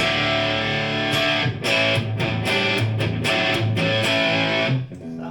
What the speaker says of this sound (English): that's not a great distortion sound